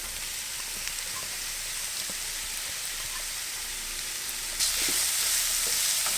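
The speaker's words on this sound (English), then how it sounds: "Go ahead and add my jackfruit." Jackfruit for a BBQ salad fries in a pan with a steady, close broadband sizzle that jumps louder for the last second or so as more is stirred in or the heat rises.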